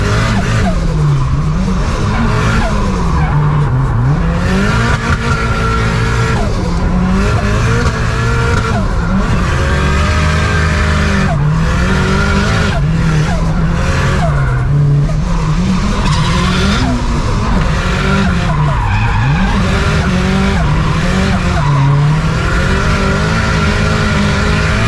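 A rear-wheel-drive Mitsubishi Evo drifts with a loud, continuous tire squeal and skid over a revving engine that rises and falls in waves for the whole stretch, close and dominant.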